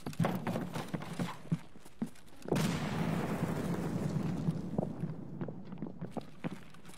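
Grenade blast in a shooter game, a sudden deep boom that rumbles and decays over several seconds amid scattered game footsteps and clicks.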